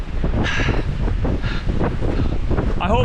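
Strong wind sweeps across a frozen lake at an ice-fishing spot, roaring and buffeting the microphone loudly and without a break, with gusts swelling and easing.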